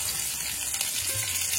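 Potato pieces go into hot white oil with fried fish head and whole-spice tempering, giving a steady, loud hiss and sizzle throughout.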